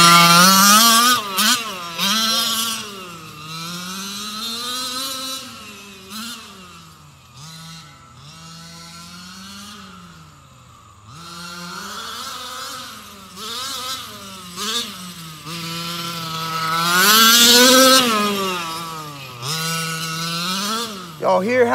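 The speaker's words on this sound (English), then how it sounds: "Hear how my engine runs?" The engine of a Losi MTXL RC monster truck runs close by, a buzzy whine that climbs and falls with repeated throttle blips and revs, holding steady for stretches between them.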